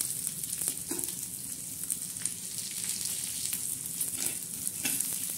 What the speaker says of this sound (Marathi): त्यामध्ये ह्या मिरच्या टाकायच्या, असा मस्त भाजून घ्यायचा